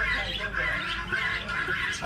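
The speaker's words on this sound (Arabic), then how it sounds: "هذا البلبل طبعا معشوق البلبل" A bulbul calls amid a collection of birds that includes a white peacock and ducks, its squawking chirps repeating through a steady crowd of other bird noise while people talk nearby.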